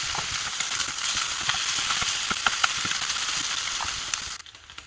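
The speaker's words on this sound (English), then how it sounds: "we're going to heat up our cast iron, add a little bit of some oil, and we're going to sear all this off." Octopus searing in a little oil in a hot cast iron pan, a loud, continuous hissing sizzle with scattered pops that cuts off sharply near the end, no voices.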